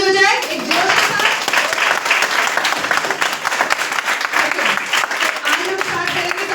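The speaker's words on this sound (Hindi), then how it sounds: "तो जोरदार ताली हो जाए एक जोर के साथ" A Lajpat Nagar business-meeting audience claps loudly and continuously throughout, a dense sustained wash of applause with a brief voice at the start.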